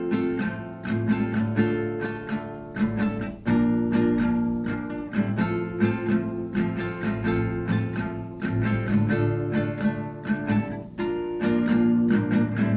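Close, clear acoustic guitar strums the verse chords of a song twice through in a steady, even down-up pattern with no talking.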